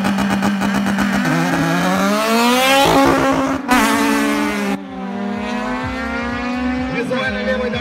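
A loud, high-revving drag racing car engine screams steadily at the start line, pitch sliding upward then holding, with a brief louder burst midway, close and continuous.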